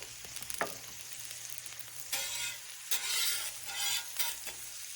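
Alligator meat hits a Blackstone griddle slicked with olive oil over very low heat, giving a soft hiss with a few louder crackling surges of sizzle and no talking.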